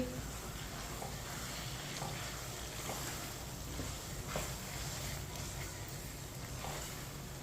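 Potatoes and spinach frying in a pan for aloo palak while being stirred: a steady sizzle with soft scraping strokes at a few points throughout, close and continuous.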